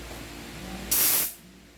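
Compressed gas sprays from a leaking airsoft pistol magazine in one loud hiss that lasts about a third of a second and then fades, with a faint hum before and after.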